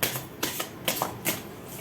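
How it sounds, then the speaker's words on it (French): Quiet card handling from an oracle deck as a single card is drawn: a soft run of papery flicks and slides, several brief rustles in quick succession close to the listener. "Je vais tirer qu'une seule carte sur"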